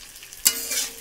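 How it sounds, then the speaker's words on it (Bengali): Onions and chillies hit hot oil with five-spice seeds and bay leaf over a high gas flame, giving a sudden sharp sizzle with a stir that then settles into a hiss, with no talk. "ফোড়ন টোড়ন দিয়ে লঙ্কা টঙ্কা পেঁয়াজ দিয়ে ভাজছি পেঁয়াজটা"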